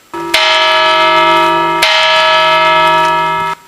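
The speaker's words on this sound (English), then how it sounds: "An original church bell from the late 1800s still rings for worship services and" Original late-1800s church bell at a Lutheran church in Ishpeming, Michigan, struck twice, loud and close, each ring a bright sustained tone that hangs on and decays slowly.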